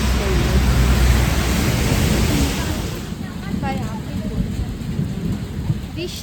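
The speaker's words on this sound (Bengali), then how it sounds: "প্রচণ্ড বৃষ্টি আমাদের সব শেষ করে দিল" Heavy rain pours down with rumbling thunder at a riverside resort during a storm, loud and dense throughout and easing slightly after three seconds, with faint voices underneath.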